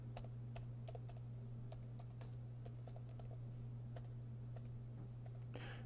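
Rapid keystrokes on a Raspberry Pi 2 computer keyboard, irregular clicks tapping out a command over a steady low electrical hum, fairly faint and close, with no talking.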